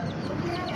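A young chicken clucking close by in a short burst of throaty calls.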